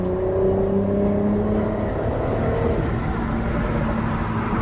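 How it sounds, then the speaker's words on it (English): A Mercedes-Benz SL450 accelerates with a steady, fairly loud engine drone from inside the car, its tone rising gradually and then levelling into a smooth whir, with no talking over it. "the sound is probably the worst part about this experience. It sounds like a V6."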